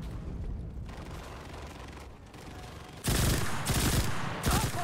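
An automatic weapon fires in a military video game set in the Berlin defence with the West German Army, a brief quieter stretch of distant shots giving way to loud, close bursts of rapid gunfire.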